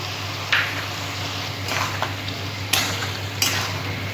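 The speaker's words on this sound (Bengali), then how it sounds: "আমি একটু কষিয়ে নেব।" Mustard, ginger and green chilli paste being sautéed with a fish head in a pan, a steady low sizzle broken by a few sharp scrapes and clinks of a spatula stirring against the metal.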